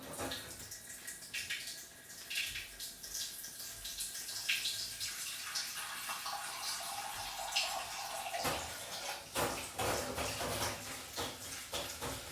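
Running water pours and splashes steadily as a cooking pot is rinsed and scrubbed under a tap, with occasional clinks and sloshes over continuous flow.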